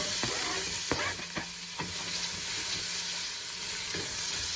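Chopped onion is stirred into browned butter in a stock pot, giving a steady close sizzle punctuated by several sharp spoon scrapes and knocks against the pot, with no talking.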